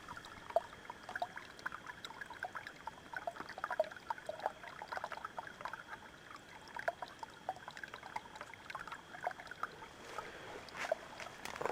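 Water from a small spring trickles out beneath a tree on a day hike through bog country, a faint, steady outdoor babble of running water with scattered light splashes and no voices.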